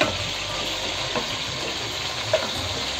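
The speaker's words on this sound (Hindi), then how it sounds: "यहाँ मैं इसमें दूध डाल रही हूँ" Milk poured into a pan while cooking fajita chicken macaroni, a steady close liquid rush that runs continuously with no voices.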